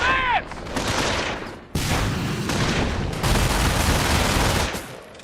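Heavy suppressing gunfire in the World War II strategy game Company of Heroes, loud dense bursts of machine-gun fire and overlapping shots sustained for several seconds with brief pauses between volleys.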